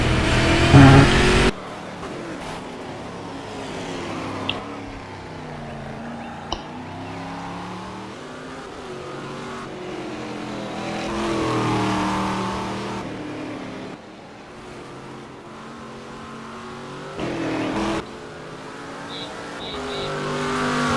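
Stock cars racing at Velopark in the game Game Stock Car 2012, engines droning and revving as cars pass, rising and fading with gear changes and occasional louder close passes.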